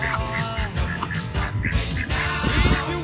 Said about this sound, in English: Just got robbed by a duck.